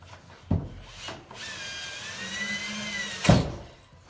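A power drill whirs steadily for about two seconds between a few sharp knocks, close by and fairly loud, with no talking, during PEX plumbing work in a mobile home.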